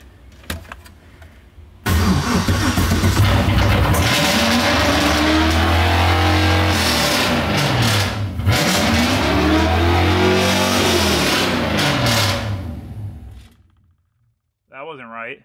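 A freshly swapped LS3 V8 in a Mazda Miata starts for the first time and revs hard and loud for about ten seconds, the pitch rising and falling twice, before cutting off; a voice follows briefly.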